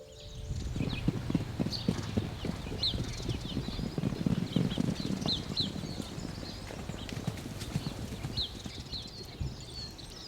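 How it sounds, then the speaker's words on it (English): Steady, rhythmic hoofbeats of a ridden horse clip-clop close by on an organic farm in Portugal among free-roaming horses, with faint birdsong above and no talking. "riding a horse between these horses in this ecosystem where they're born free and they live free"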